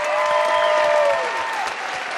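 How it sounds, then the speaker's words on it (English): An audience claps loudly at the 2012 Miss Lehi pageant, a brief burst of steady applause with sustained musical tones ringing over it. "How about a round of applause for all that?"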